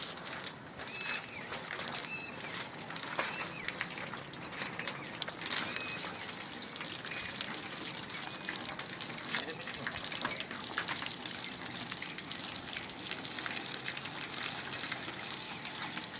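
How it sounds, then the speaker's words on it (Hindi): Water thrown and splashed onto rooftop solar panels while they are scrubbed with a brush, a continuous gushing, trickling wash with scattered splashes, and people talking over it. "जहाँ जहाँ मेरा बुरश जाएगा मामा पानी फेंको"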